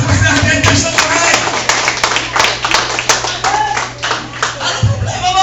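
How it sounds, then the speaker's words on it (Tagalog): A church congregation claps along during a Filipino sermon, a steady run of sharp, evenly spaced hand claps, fairly close and loud, with a low hum and the preacher's voice underneath at times. "Palakpak natin"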